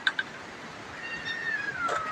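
A cat meows outdoors near a netted enclosure: two short chirps at the start, then a longer drawn-out meow that slides downward in pitch, moderately close and clear over faint background noise.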